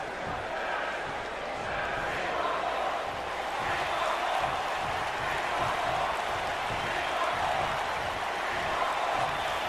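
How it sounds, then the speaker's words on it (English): A wrestling arena crowd in the WWE 2K19 video game roars and chants in rhythmic bursts, a dense, continuous wall of voices under a commentator speaking. "the crowd chanting yes in agreement with Johnny Gargano"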